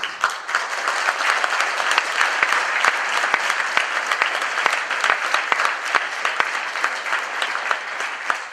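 Sustained audience applause fills a large event hall, dense and steady throughout with sharp individual claps standing out, no talking over it.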